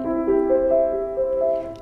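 The opening of a Chopin piece played legato on piano, smoothly connected melody notes over steady low tones, moderately loud throughout.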